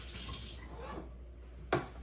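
Warm tap water runs from a faucet into a bucket, a soft steady rushing stream heard up close with no talking, ending in a brief sharp knock.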